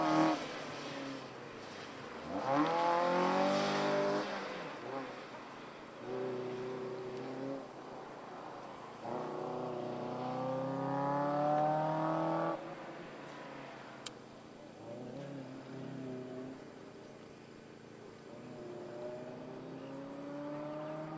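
A 1999 Mazda Miata race car on an autocross course, its engine rising and falling in rapid revving pulls through corners at moderate distance, with a commentator talking over it.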